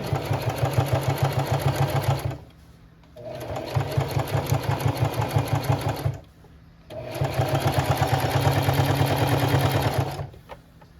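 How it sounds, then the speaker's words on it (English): A sewing machine stitches around the edge of a fabric mug cozy, running loud and close with a rapid rhythmic needle chatter in three long runs separated by short pauses. "Okay, I finished sewing all the way around."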